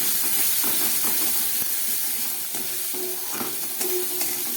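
Spice paste with ginger and garlic frying in a pan on low gas, giving a continuous close hiss and sizzle with soft scraping and stirring noises throughout.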